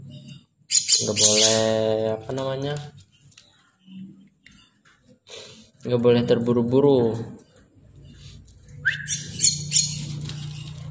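A young jalak kebo (myna) chick gives loud, harsh squawks in two bursts close by, with quiet gaps between them and a person speaking.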